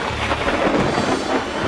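Heavy downpour with thunder, used as a sound effect in a Bengali audio story: a dense, steady roar of rain with a low rumble underneath, loud and continuous throughout, with no voices.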